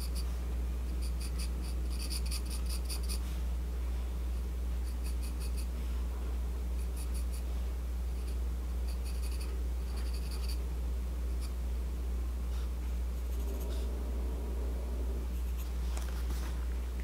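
A pencil draws lines on paper while sketching a face, giving soft scratchy strokes in short repeated bursts over a steady low hum, close and fairly quiet.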